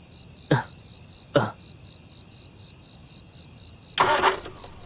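Three short, harsh bursts of an engine cranking without catching, separated by pauses, over a steady high chirping of crickets.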